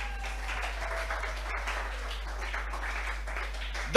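A church congregation applauding, a dense, steady wash of clapping from many hands that holds evenly throughout, with a low electrical hum underneath.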